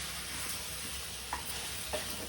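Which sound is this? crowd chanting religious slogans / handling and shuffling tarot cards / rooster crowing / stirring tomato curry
stirring tomato curry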